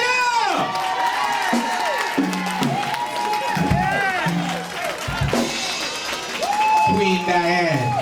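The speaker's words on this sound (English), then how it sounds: "Let's have a nice round of applause first" A crowd at a country celebration event cheers and applauds, with shouts and whoops rising over steady clapping throughout, mixed with voices and bursts of louder cheering near the end.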